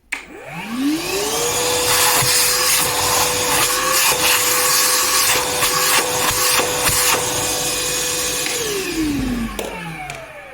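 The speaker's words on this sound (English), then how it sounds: "this is a battery powered vacuum that I'm using in here" A cordless battery-powered vacuum whirs up to a steady high-pitched suction drone, holds it for several seconds with scraping and rubbing noises while pulling at a pushed-in speaker dust cap, then winds down.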